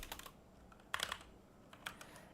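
Computer keyboard typing while setting up a coding project, a few quick bursts of close key clicks separated by short pauses, fairly quiet with no talk.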